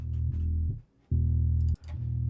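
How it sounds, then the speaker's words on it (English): Bass guitar runs through a guitar rig with EQ and CLA 76 compression, a few deep, thick sustained notes broken by short gaps, upfront and heavy with no talking. "The bass guitar sounds like this."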